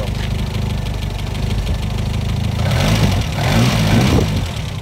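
A 1978 Morgan 4/4 with a 1.6 Kent Crossflow engine and Weber carburettors runs close by, a steady low idle that builds into a few throatier revs toward the end.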